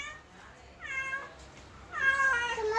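A house cat meows twice at a fish-buying moment, a short call followed after a pause by a longer, louder one, fairly close, against a quiet room.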